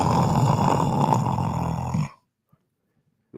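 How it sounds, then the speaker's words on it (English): Loud, close snoring in an office, a raspy rumbling breath that runs for about two seconds before stopping abruptly into near silence. "Who the hell's snoring in my office?"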